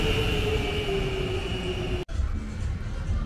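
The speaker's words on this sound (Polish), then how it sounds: "Jedzie kolejny tramwaj." A tram rolls along a city street in Buenos Aires, a steady rumbling drone with a high whine that holds, then cuts off sharply as the loud passing ends, leaving quieter street noise.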